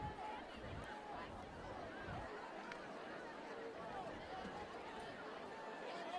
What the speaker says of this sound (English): The murmur of the crowd here for homecoming